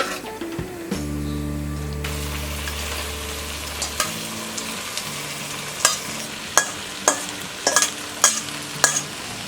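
Tamarind rice, mixed with a thick jaggery and tamarind mixture, fries in a pan. A low sizzle sits under a steady hum that stops partway through, followed by sharp repeated scraping and clinking stirs.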